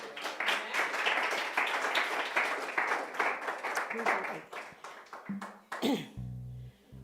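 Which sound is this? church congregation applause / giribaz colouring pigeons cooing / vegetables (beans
church congregation applause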